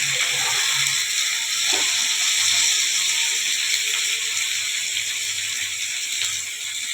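Chopped tomatoes fry in a pan for a Bengali fish curry, giving a steady, close sizzling hiss with faint scraping of a stirring spoon.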